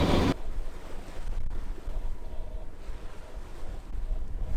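Strong wind buffets the microphone over the rushing wash of water around a sailboat under both sails, beating upwind on the Atlantic Ocean, a constant loud roar with no talking.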